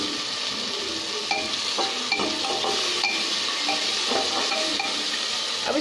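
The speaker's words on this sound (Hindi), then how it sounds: "अब हम इसमें टमाटर डालेंगे, इसे भी थोड़ा अच्छे से चलाएंगे" Tomatoes being stirred into masala khichdi frying in a pan, a steady oily sizzle with scraping spoon strokes and occasional clinks against the pot, close and continuous with no talking.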